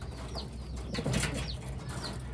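Pigeons, including a blue bar cock and a hen, coo and flap their wings nearby. Soft repeated calls and bursts of wingbeats sit over a steady low background hum.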